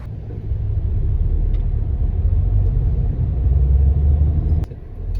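Steady low rumble of a car driving through a pleasant district of Marseille, heard from inside with constant engine and road noise that eases slightly near the end.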